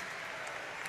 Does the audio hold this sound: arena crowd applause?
yes